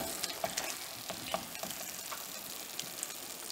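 Black halwa thickening with ghee in a pan, stirred steadily, giving a low continuous sizzle broken by small soft scraping ticks, close and fairly quiet with no talking.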